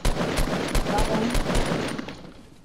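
Rapid gunshots from a weapon in the video game Fortnite, a quick run of evenly spaced loud shots fading out at the end.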